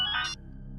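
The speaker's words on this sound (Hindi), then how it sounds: "लगता है उसी का फोन।" A phone gives a brief electronic ring, a short bright tonal chirp lasting under half a second before cutting off into quiet room tone.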